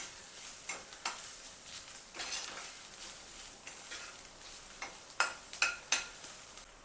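Ginger and garlic frying with browned onions in a pan for paneer tikka masala, a soft continuous sizzle broken by several sharp spoon scrapes and taps against the pan, close and fairly quiet with no talking.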